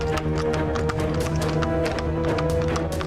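A horse-drawn carriage rolls along with steady, rhythmic hoof clip-clops, moderately close, set against a continuous tonal backdrop with no talking.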